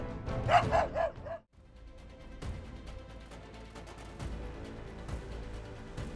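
A dog barks at an adult grizzly bear, letting out three quick, loud barks before a brief gap and a denser, quieter stretch of background sound.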